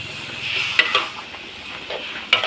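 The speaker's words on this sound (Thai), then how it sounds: "ผัดบวบกระทะใหญ่เลยจ้ะ" Sponge gourd with pork and fresh chilies sizzles steadily in a big wok while a metal spatula scrapes and clacks against it a few times.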